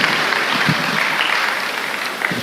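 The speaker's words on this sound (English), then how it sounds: "A round of applause for the Vice Chancellor, please." An audience at a Benson Idahosa University inaugural lecture applauds in a hall, giving a short, continuous round of clapping that stays steady and fairly loud throughout.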